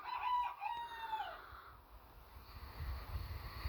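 A backyard chicken from a flock of silkie mixes that includes a Barred Rock silkie gives a short, drawn-out call lasting about a second, fairly close, followed by quiet outdoor background.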